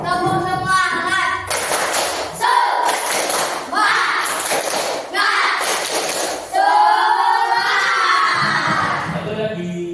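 A classroom of children claps and chants together in a group cheer, with loud rhythmic clapping bursts and shouted voices, and an adult voice between the rounds.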